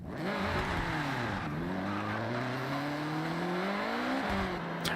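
Integra Type R racing in Forza Horizon 6, its engine droning steadily and close, pitch sliding up through the gears with a brief dip near the middle and another near the end, continuous and loud with no voices over it.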